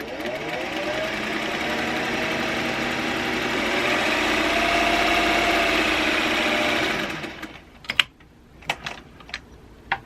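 A sewing machine stitches a seam on a tie-dyed fabric mask with a steady, fast mechanical whir that runs for about seven seconds, then stops, followed by a few sharp handling clicks.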